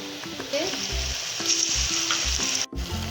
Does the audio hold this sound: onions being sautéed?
yes